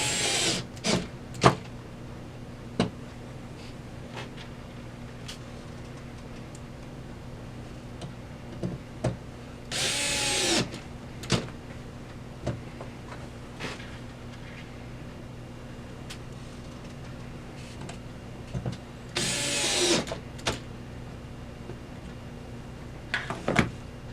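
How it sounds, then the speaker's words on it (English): A power driver spins Phillips screws into the coin mechanism of a bulk toy candy machine in two short whirring bursts, spaced well apart, amid scattered clicks, ticks and metal handling knocks. "Just the Phillips are easier to put in and take out, especially with the power tool."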